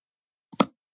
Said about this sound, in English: And now I will demonstrate how to blow a bubble.